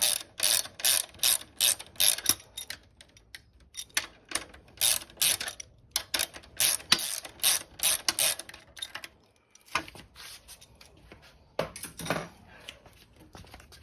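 Ratchet wrench turning the nut on a Triumph Speed Twin motorcycle swing arm, rapid close clicking bursts repeating steadily, pausing briefly before resuming, with no talk.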